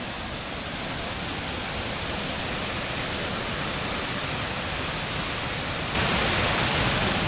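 A waterfall in the North Woods roars as a dense, continuous broadband rush of falling water. It is loud and unbroken throughout, with no voices.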